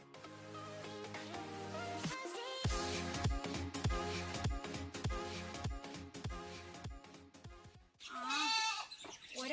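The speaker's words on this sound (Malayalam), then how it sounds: "ആ ആട് പ്രസവിച്ച കുഞ്ഞുങ്ങളാണ് ഇത് രണ്ടും" Goats on a small Kerala farm, nanny goats with their young kids, bleat again and again at close range, loud wavering calls following one another with short gaps.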